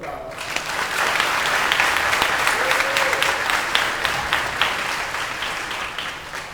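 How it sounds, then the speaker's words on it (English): Audience applause at the John McDonogh Senior High School class of 2013 commencement fills the space, dense and sustained from a large crowd, with individual claps standing out over a steady wash of clapping. "Give your supporting cast a round of applause."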